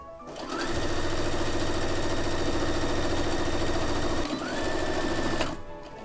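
A sewing machine running a gathering stitch on fabric for an upcycled skirt, a steady fast mechanical whir with rapid needle chatter, close and loud, running continuously for about five seconds before slowing and stopping.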